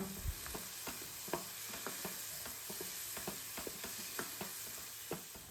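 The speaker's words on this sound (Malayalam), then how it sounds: "ഇഞ്ചി വെളുത്തുള്ളി അതിൻ്റെയൊക്കെ ഒരു പച്ചച്ചുവ മാറുന്നത് വരെ ഒന്ന് വഴറ്റിയെടുക്കാം" Spices with ginger and garlic sauté quietly in a pan for chicken biryani, a faint steady sizzle punctuated by a regular rhythm of spoon taps and scrapes against the pan.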